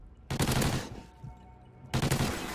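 Two loud bursts of rapid automatic gunfire in a video game, each lasting over half a second, separated by a quieter gap with a faint tone.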